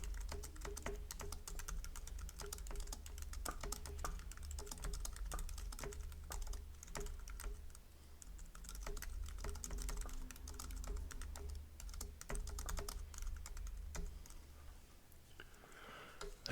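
Steady keyboard typing, quick irregular key clicks running throughout at a close, moderate level over a low background hum.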